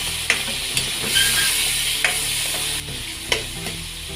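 Potatoes and carrots fry in a hot pan as fish sauce is stirred in, giving a steady close sizzle broken by a few sharp clicks of the utensil against the pan, with no voices.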